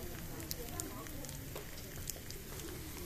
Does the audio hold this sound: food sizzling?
yes